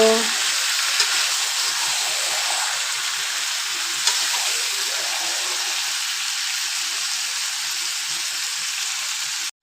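Broiler chicken pieces fry in a pan, giving a loud, continuous sizzle with soft stirring scrapes and no talking.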